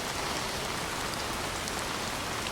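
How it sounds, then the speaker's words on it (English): Steady pouring rain hisses evenly throughout, a dense, close wash of drops on surfaces with no voices. "You might hear the sound of the rain."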